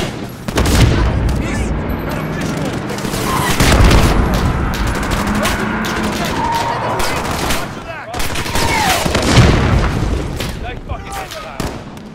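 Heavy gunfire in Call of Duty: Modern Warfare (2019), continuous automatic fire mixed with booming impacts, loud and dense throughout, with radio-style voices talking over it.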